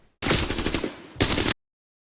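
Rapid automatic gunfire in the shooter game Arena Breakout: a dense, loud burst of about a second, a brief gap, then a second shorter burst, with no talk over it.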